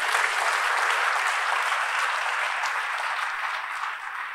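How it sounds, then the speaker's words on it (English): A church congregation claps together in a steady, dense wash of applause that holds evenly for several seconds and then eases slightly toward the end. "Can we clap our hands unto the Lord?"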